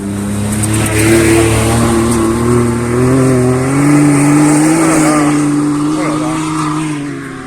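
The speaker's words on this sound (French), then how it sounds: "le quad il abîme ce chemin" Quad bike (ATV) engine revving on a dirt path, a loud rising and falling drone held close throughout, with speech-like sound mixed in.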